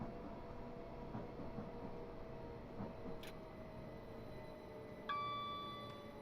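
Train braking as it pulls into a station in a train simulator game on the London to Brighton line, a low steady rumble of running gear with faint clicks and a brief high brake whine near the end.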